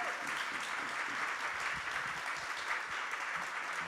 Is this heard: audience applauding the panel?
yes